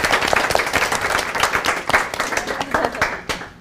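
A conference audience claps for panelists and a moderator at a maternal health talk, a dense, loud burst of applause sustained throughout, close by with crowd noise.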